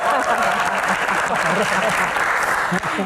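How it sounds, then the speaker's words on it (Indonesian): A comedy show Q&A crowd applauds loudly and continuously, a thick wash of clapping with some cheering and voices underneath, steady from start to finish. "Tepuk tangan."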